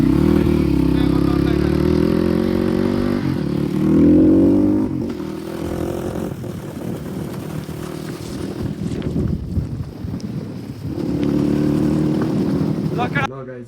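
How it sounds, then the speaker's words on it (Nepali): A motorcycle engine drones loud and close in the rain, surging and falling as it pulls away, with wind buffeting and rain noise throughout. "अब बाइक गयो"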